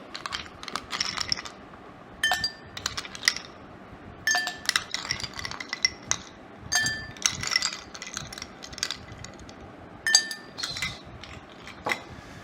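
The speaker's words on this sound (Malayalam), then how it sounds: "കുറച്ച് ഐസ് ക്യൂബ് അതിടുക കേട്ടോ" Hard little clinks and chinks of ice dropping into glasses, several bursts spread across the clip with quiet gaps between them.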